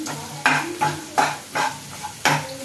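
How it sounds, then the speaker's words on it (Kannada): Onions frying in a pan for carrot chitranna, a soft sizzle broken by about five stirring scrapes at a steady pace, close and fairly quiet with no talk. "ಈರುಳ್ಳಿ ಹಾಕಿದ್ದೀನಿ, ಈರುಳ್ಳಿ ಚೆನ್ನಾಗಿ ಉಪ್ಕೊಳ್ತಾ ಇದ್ದೀನಿ"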